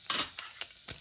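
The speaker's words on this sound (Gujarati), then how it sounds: "રાઈ ફૂટવા આવે ને પછી જીરું મૂકવાનું" Cumin seeds crackle in hot oil with mustard seeds for tempering a vegetable dish, giving short bursts of close sizzling and popping, with brief pauses between them.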